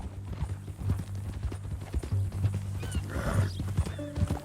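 Steady clip-clop of horse hooves at a walking pace, close by, with a horse snorting and a low background hum, in the video game Red Dead Redemption 2.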